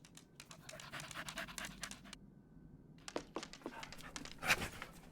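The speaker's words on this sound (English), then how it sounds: "Hello, little doggy." A dog pants in quick, rhythmic breaths, close and fairly loud, in an adventure video game set in the Alps, with a brief pause before the panting resumes alongside some scratchy rustling.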